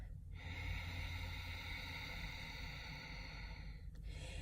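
A long, slow Ujjayi exhale pushed through a constricted throat, a steady breathy rasp lasting several seconds, ending in a short sharp intake.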